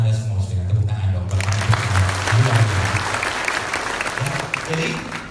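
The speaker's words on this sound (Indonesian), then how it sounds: "Dengan tepuk tangan dong" Audience applause breaks out in a hotel meeting hall, loud dense clapping that swells after a voice and continues steadily, with speech carrying on over it.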